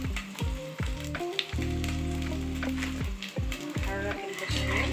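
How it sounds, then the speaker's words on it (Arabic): Ghee and flour cooking in a pan as a roux for béchamel sauce, a steady close sizzle with intermittent stirring scrapes, heard over faint background music. "حرك البشاميل لغايه ما الدقيق يستوي"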